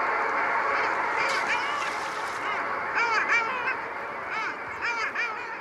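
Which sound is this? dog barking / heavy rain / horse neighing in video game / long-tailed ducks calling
long-tailed ducks calling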